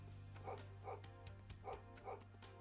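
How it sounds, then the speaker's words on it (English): A dog in a video game barks in a quick series of four or five yips over a steady low background tone, heard faintly. "Why is the dog so loud?"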